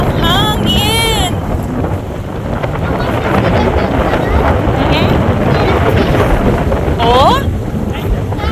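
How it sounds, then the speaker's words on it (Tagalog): Strong coastal wind roars over open rocky shoreline at World's End, Norway, a steady heavy buffeting that fills the whole stretch, with voices calling out briefly over it. "Ang hangin!"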